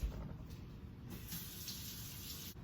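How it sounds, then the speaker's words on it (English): Running tap water over a kitchen knife after cutting the top off a pumpkin, a steady close hiss of flowing water at the sink that lasts the whole moment with slight shifts in the stream. "Gonna give this a good rinse."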